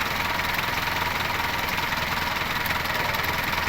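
A Toyota 4K engine with a repaired voltage regulator idles steadily and close, a continuous even mechanical hum with no talking.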